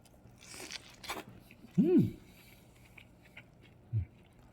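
Someone bites into a thick homemade hamburger with a fat patty, giving a few soft, close crunching bites and chewing sounds spaced over a few seconds.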